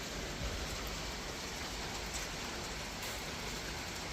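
Heavy rain downpour pouring steadily outdoors while beef shashlik grills, a dense, even hiss with no breaks, fairly loud and continuous.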